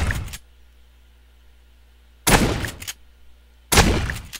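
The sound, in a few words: gunfire in the video game 7 Days To Die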